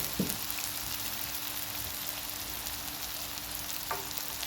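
About 400 grams of onions fry in oil left from frying bitter gourd, making a soft, even sizzle with faint crackles and a couple of light utensil taps, fairly quiet and without speech.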